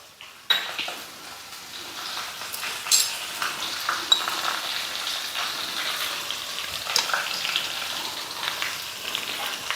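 Chopped ginger and green chili for ven pongal sizzle and fry steadily in hot fat up close, with occasional light clinks and stirring taps of a utensil against the pan.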